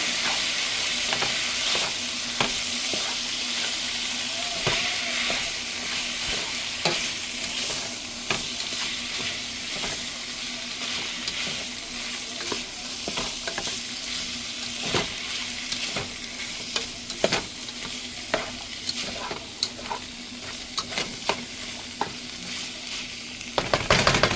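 Minced jalapeño and onion sauté in a hot pan with a continuous, close, hissing sizzle, broken by occasional stirring scrapes and a few clatters near the end.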